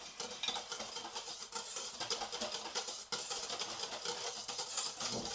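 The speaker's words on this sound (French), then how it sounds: "Bien mélanger." Vanilla crème brûlée custard mixture being stirred in a bowl, with a steady, busy scraping and clinking of a utensil against the sides, fairly close and continuous, with no talking.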